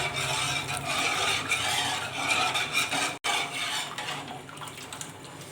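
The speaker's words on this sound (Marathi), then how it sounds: "पीठ घातले की लगेच हलवून घ्यायचं आहे" Rice flour being stirred into water in a pot over a low gas flame for rice-flour papad, a steady close scraping and sloshing of a spoon against the metal pot, broken by one brief silent gap.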